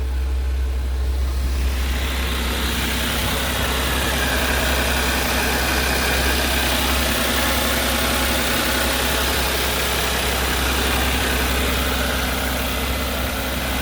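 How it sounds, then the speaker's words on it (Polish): Close and steady, a BMW X1 engine idles smoothly at a Long Beach auction lot, a constant low hum and rumble with no talk. "silniczek chodzi ładnie."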